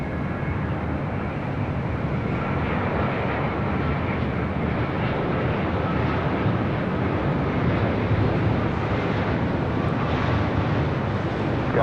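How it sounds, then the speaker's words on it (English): An All Nippon Airways Boeing 787-9 Dreamliner lands at LAX, its engines a steady, broad roar heard from a distance, even in loudness throughout with no voices. "This is All Nippon Airways 106 coming in from Tokyo Haneda on a 787-9 Dreamliner."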